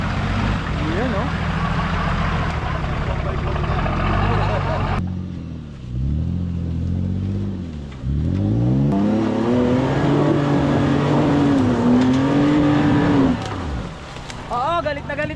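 A 4x4's engine revving up and down in several surges, loud and close, on an off-road trail, with a voice talking over and between the revs.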